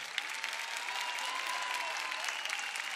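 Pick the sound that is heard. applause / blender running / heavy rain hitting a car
applause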